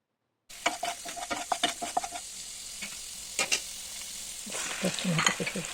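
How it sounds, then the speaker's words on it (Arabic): Peppers fry in garlic oil as a utensil scrapes and stirs them in the pan, with rapid clattering strokes over a soft steady sizzle, then a louder burst of frying near the end. "درت هذاك الفلفل وقليته مزيان في زيت الثوم."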